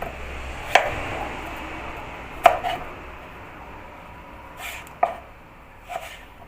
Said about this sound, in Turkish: Şimdi ben bunu etin büyüklüğüne göre doğrayacağım.